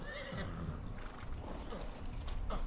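A horse whinnies in the video game Ark, with hoof clip-clop steps over a steady outdoor game ambience. It is fairly faint and continuous, with no talking.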